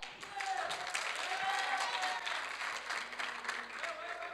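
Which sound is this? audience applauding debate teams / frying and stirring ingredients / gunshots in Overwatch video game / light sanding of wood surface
audience applauding debate teams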